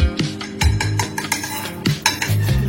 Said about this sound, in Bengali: রুটিটার মধ্যে খালি ঘি দিয়ে দিচ্ছি